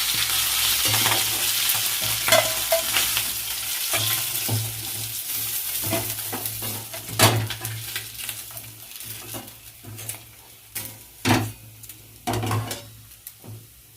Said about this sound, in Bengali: মাছের মাথাগুলো ভাজা গেছে লাল লাল করে।